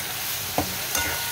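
Spices stir-fry in a pan for shol fish curry, a brief quiet sizzle punctuated by two quick spatula scrapes, without any speech.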